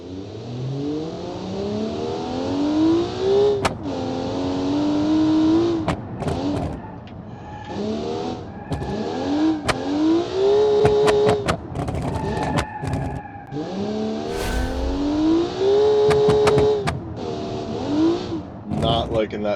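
Front-wheel drive car in a racing video game, engine revving up through the gears in repeated rising sweeps with shifts between them, loud and continuous over about twenty seconds.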